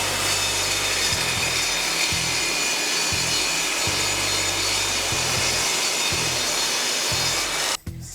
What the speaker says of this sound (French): On coupe une planche de pain, 3 cm, 4 cm d'épaisseur, on va voir ce que ça donne.